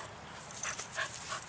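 A tiring retriever dog playing fetch with an automatic ball launcher, giving short high whimpers and quick breathy panting in soft bursts, close and faint, with no voices.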